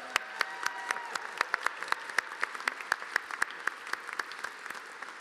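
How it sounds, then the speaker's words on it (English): Audience applause at the 2017 IAVA Heroes Gala, a steady patter of scattered, distinct hand claps from a modest crowd that stays fairly even throughout, with no voices over it. "Let's give them a round of applause."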